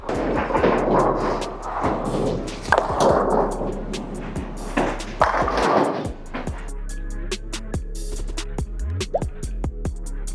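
A bowling ball is thrown and rolls down the lane with a loud, continuous rumble, followed by sharp knocks and clattering impacts, heard close and without talk.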